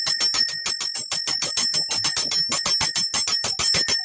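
A small hand bell is rung steadily, giving a rapid even run of bright, ringing strikes, loud and close, with no talk over it.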